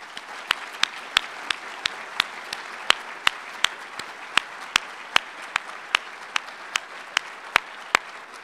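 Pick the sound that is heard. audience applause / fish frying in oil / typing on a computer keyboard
audience applause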